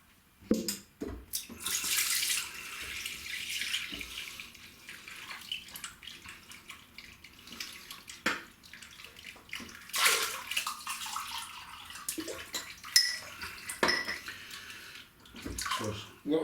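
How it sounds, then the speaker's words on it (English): Water runs steadily into a sink with splashing bursts, fairly close, amid small clinks and handling noises. "So water in the sink, and that's the razor heating up."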